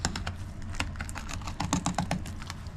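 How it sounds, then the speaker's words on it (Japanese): Kitchen knife drawn along the bones of a sea bream while filleting it into three pieces. A faint, close run of small scraping clicks and ticks as the blade grates over the bones, steady and quiet. "今の音、骨を感じながら入れていくと"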